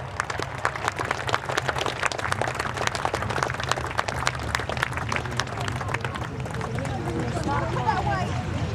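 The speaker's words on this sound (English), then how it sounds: "a round of applause please for the Harvard team" Airshow crowd at Woodchurch clapping for a Harvard display team, a dense, steady patter of applause mixed with a public-address announcer's voice and low engine rumble across the airfield.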